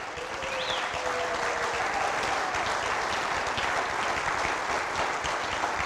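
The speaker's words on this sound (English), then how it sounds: "Every single person that's clapping right now" Crowd clapping at a Clarion University Hall of Fame induction ceremony honoring wrestling, a continuous, dense roar of applause from many people, steady and fairly distant, with no speech over it.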